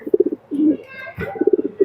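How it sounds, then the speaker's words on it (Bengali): Pakistani teddy pigeons coo close by in quick rhythmic bursts of throaty pulses, pausing briefly and then repeating, with a voice faintly talking in between. "কবুতর দুইটা অনেক ভালো কবুতর"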